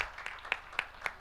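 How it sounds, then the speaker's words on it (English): Brief applause at an African financial markets forum as a speaker is welcomed, thin and sparse with a handful of distinct claps spaced evenly over a second, fairly quiet. "Can we have a big round of applause, please,"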